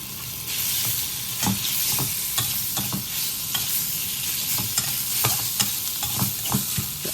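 Soft pork bones stir-fried in a wok with southern chili paste and garlic-chili, loud close sizzling broken by frequent rhythmic scrapes and clatters of the spatula, with no voices.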